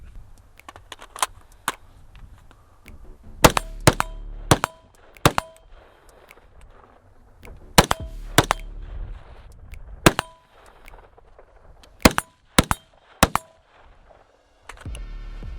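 Rifle shots crack at a shooting range, loud and close, firing singly and in quick pairs with gaps between them over faint background noise.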